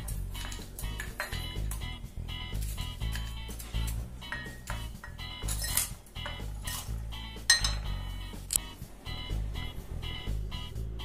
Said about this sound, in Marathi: त्यानंतर आपण हे जो आईस क्रश केलेला आहे तो यामध्ये थोडा थोडा घालूयात